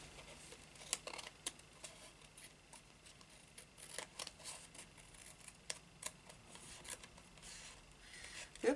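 Scissors trim a tiny overhanging edge of paper from a handmade infinity tag. The snips are faint and scattered and come with light rubbing and handling noises in a quiet room.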